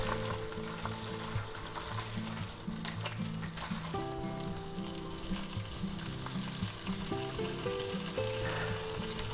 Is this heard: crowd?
no